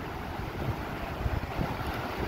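Broadband rushing wash of a river rolling fast past a flathead fishing spot, steady and fairly near with gusty low rumble and wind buffeting the microphone, no voices.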